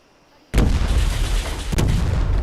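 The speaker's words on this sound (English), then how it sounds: "listen to all those explosions" In the Sim Settlements 2 video game, a sudden loud barrage of explosions and booming gunfire erupts after a quiet start and rumbles on continuously, with one sharper blast partway through.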